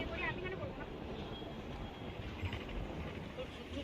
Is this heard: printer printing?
no